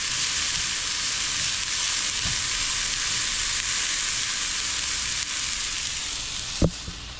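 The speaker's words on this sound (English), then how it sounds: "And I'm going to mix that into the ground beef." Ground beef with jalapeños sizzling hard in a hot pan, a loud continuous hiss close up, with a couple of soft stirring knocks and one sharp clunk near the end.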